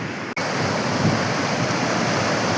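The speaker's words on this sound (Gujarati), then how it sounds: "તમે જોઈ લો આ પ્રવાહ સરસ્વતીનો કુંવારકા જેને કહેવાય છે એનો છે" Saraswati river water in North Gujarat, at the Kunvarka stretch near a confluence, rushes in a loud, continuous close-up roar with no voices, broken only by a brief cut near the start.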